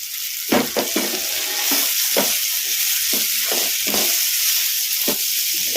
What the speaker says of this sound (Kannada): ಚೌಳಿಕಾಯಿನ ಈ ಥರ ಕಲಸ್ಕೊಂತ ಫ್ರೈ ಮಾಡ್ಕೊಂಬಿಡೋಣ